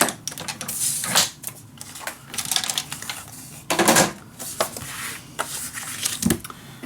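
Paper being cut by hand for a dog-themed mini album, heard as a series of sharp, close crisp snips and rustles in uneven bursts, with no one speaking.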